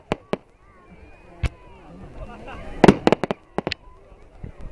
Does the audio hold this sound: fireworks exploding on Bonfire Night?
yes